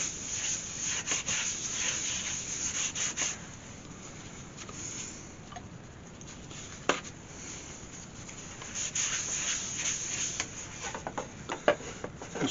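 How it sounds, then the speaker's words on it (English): Sandpaper rubbing against a cherrywood pedestal bowl turned from green log on a wood lathe: soft, steady scratchy friction over a faint hum, with occasional light ticks and taps, fairly quiet and close. "Now we're going to apply sand and sealer."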